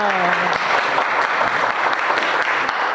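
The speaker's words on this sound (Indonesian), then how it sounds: "Tepuk tangan buat semuanya." A classroom group in a school counseling session claps together in dense, steady applause for several seconds, loud and close, with a brief spoken voice at the very start.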